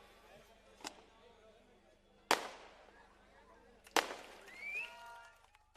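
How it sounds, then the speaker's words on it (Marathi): Three firecracker cracks burst out at irregular intervals at a political election rally, the last two loud and close, with faint crowd noise between them. "फटाके वाजवणं थांबवा"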